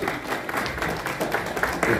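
A poetry mushaira audience in Jamia Nagar, Delhi, breaks into dense, continuous clapping and crowd noise, loud and close throughout the short stretch.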